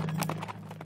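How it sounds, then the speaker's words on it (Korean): Cartoon horse hooves as a group of riders on horseback approaches through a forest: rapid, close clip-clop beats over a low steady hum, loud and continuous, with no talking. "그런데 갑자기 그를 향해 말을 탄 남자들이 다가오는 게 아니겠어요?"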